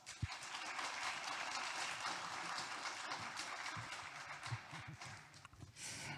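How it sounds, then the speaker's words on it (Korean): Audience applause at the close of a gold-investment seminar talk at the Seoul Money Show fills the room with a steady, even wash of clapping, fairly quiet and distant, with no voices over it. "여러분 다시 한번 큰 박수를 부탁드리겠습니다."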